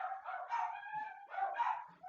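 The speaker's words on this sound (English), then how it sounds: "I forgot to mention she has a few dogs." Several dogs in a house yelp and howl in long, wavering, high-pitched calls: two drawn-out bursts close to the microphone, with no talk.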